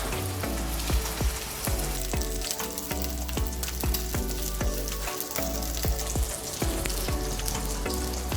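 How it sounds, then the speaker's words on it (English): Homemade beef burger patties fry in a pan, two at a time, with a loud, dense, continuous sizzle and crackle and rhythmic popping spatters throughout. "So I'll just fry 2 at a go"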